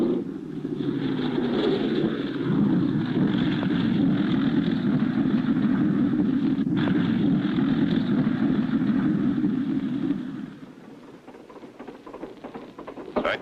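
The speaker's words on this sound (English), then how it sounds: "I taxied the plane closer to the camp so we won't have so far to walk" A taxiing airplane's steady engine drone with a broad low rumble holds for about ten seconds, then drops away, leaving quieter noise; no voices.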